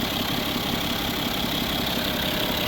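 A 2011 BMW 740d F01 xDrive with a 3.0-litre turbo diesel engine idles steadily, a dense, continuous broadband rumble with a faint clattery texture, close and unbroken throughout with no talking.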